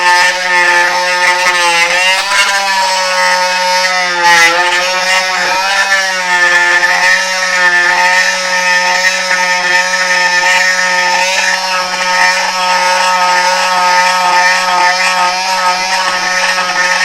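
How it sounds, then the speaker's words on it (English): An ALDI Workzone 12V cordless multi-tool scrapes epoxy, giving a loud, steady, close oscillating buzz with a high harmonic whine that holds almost unbroken throughout, with slight shifts in pitch as the scraper bears down. "I'm just going to test the scraper on this epoxy what I mixed up on here"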